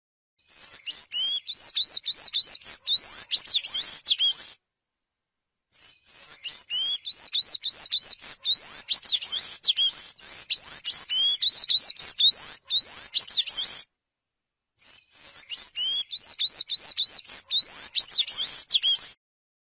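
A Brazilian songbird sings in three long bouts of rapid, high sweeping whistled phrases, clear and close, separated by short silent pauses.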